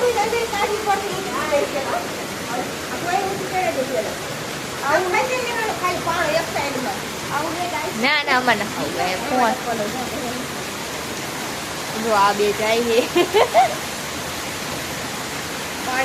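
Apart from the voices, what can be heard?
heavy rain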